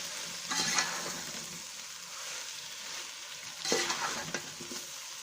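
Potatoes being stirred in a frying pan for chicken pasta, with steady oil sizzling and two bursts of spatula scraping and tossing, the second slightly stronger.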